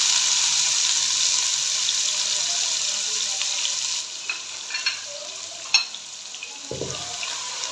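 Finely chopped onions fry in hot oil in a pan, giving a continuous loud sizzling hiss that eases slightly partway through, with a few stirring knocks toward the end.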